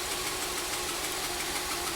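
A 2014 Jetta's direct-injected engine idles roughly with a misfire, producing a steady, close, rumbling drone with an uneven shaking pulse and no voices.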